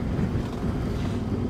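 Wind roars across the microphone during a two-up adventure motorcycle ride in New Zealand, a continuous loud low rumble with no distinct events.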